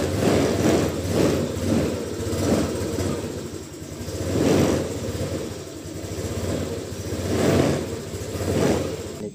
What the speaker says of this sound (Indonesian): Nah motor hidup ya, start.